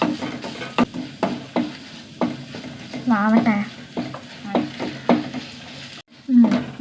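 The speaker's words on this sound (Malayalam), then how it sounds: "ചെറിയ തീയിൽ വെച്ചിട്ട് വറുക്കണം മല്ലി നന്നായി മൂക്കണം" A pan sizzles softly as coriander seeds roast over a low flame while a spoon scrapes and stirs in steady repeated strokes, close by, with a brief voice in between.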